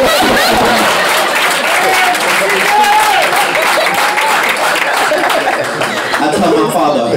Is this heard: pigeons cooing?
no